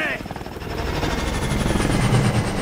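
A helicopter in the video game Call of Duty Advanced Warfare gives a loud, steady rotor thumping and engine roar that fills the whole stretch, with a brief voice near the start.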